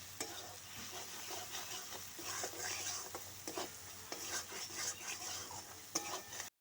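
Turmeric powder and salt stirred into a pan for a Bengali rohu fish curry with mustard and poppy seed: soft, continuous scraping and faint frying sizzle with scattered spatula taps, fairly quiet and without speech.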